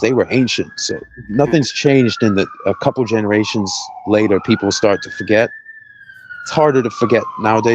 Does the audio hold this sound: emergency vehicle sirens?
yes